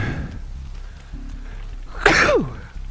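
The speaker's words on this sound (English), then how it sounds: "sneeze." A single loud, close sneeze during a Dead by Daylight game stream, heard alone over faint background noise.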